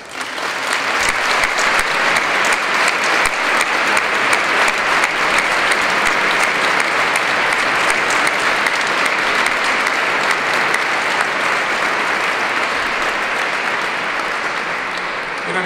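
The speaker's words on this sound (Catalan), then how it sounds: "el que m'agradaria molt que tots fes amb un fort aplaudiment" Strong, sustained applause from a large audience at a tribute to retired teachers, loud and steady for the full stretch with a dense wash of clapping hands.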